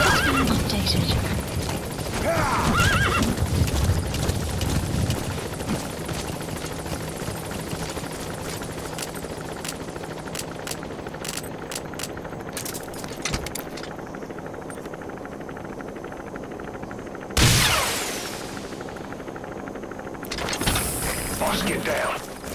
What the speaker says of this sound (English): Boss, get down. That's an enemy gunship.